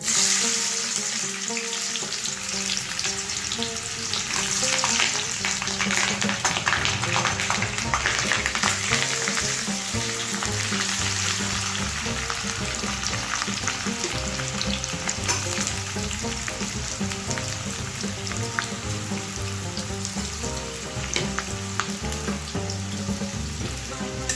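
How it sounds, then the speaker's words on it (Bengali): Onions frying in oil in a wok (kadai) for a dhaba-style egg chicken tadka, a steady, loud sizzle that stays close and continuous throughout with occasional stirring scrapes. "এবার আস্তে আস্তে করে পেঁয়াজগুলো ভাজবো।"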